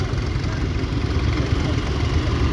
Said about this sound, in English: Caterpillar tractor coming up through the gate there.